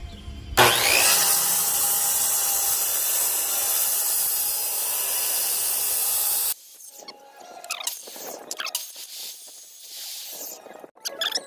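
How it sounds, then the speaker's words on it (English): Wood cut straight down the middle for a large wine rack cube: a loud, steady, close cutting roar lasts about six seconds, then stops abruptly, followed by scattered scrapes, rubs and light knocks. "I'm going to put a cut right down the middle"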